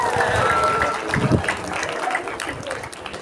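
Students at a Monday flag ceremony at a vocational high school clap together, a fairly loud burst that thins out over a few seconds, with voices talking over it.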